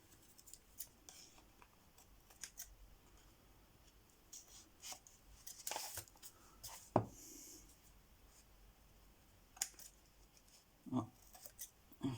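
Scissors trim excess paper from a handmade notebook with quiet, scattered snips and paper rustles, soft and close, with a few louder cuts.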